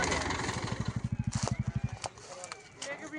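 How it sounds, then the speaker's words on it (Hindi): A tractor arrives in a wheat field for threshing, its engine chugging in a quick, steady low putter that fades after a couple of seconds, with a person talking over it. "तो दोस्तों हमारे फील्ड में ट्रैक्टर आ गया है थ्रेसिंग के लिए।"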